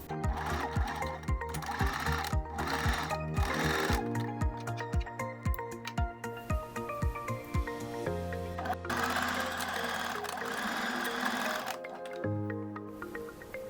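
A sewing machine stitches a bartack on Brazilian-cut briefs, with a loud, steady mechanical whir and rapid needle ticking that pause and shift several times against a background of music, and no talking.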